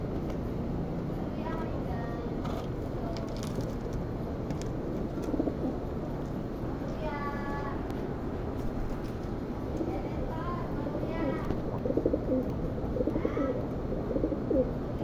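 Pigeons coo repeatedly in a breeding loft, soft throaty calls recurring over a steady background hum, with occasional wing flutters and light shuffling.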